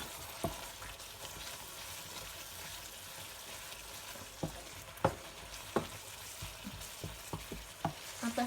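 Garam masala and spices are stirred into vaal beans and potatoes in a pan, giving a low frying crackle with a series of scrapes and knocks from the spoon that grow busier toward the end.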